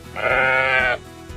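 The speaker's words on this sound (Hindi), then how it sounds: "ये है शीप। शीप को उर्दू में हम भेड़ कहते हैं।" A single sheep gives one clear, close bleat lasting under a second, loud and wavering, followed by quiet.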